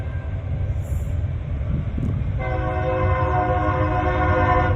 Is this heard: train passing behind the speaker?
yes